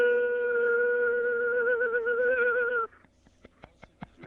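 A human voice imitates a squeaky squirrel cage fan, holding a steady wavering whine for nearly three seconds, then breaking into a few short clicks and squeaks.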